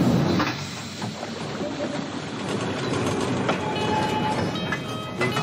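Passenger train running on rails in an action film, a steady broadband rumble and rattle of the carriage throughout with faint clicks and squeaks, no talk over it.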